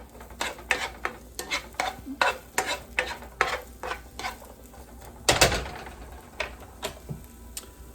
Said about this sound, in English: I am gonna let it start sizzling before I add the next item.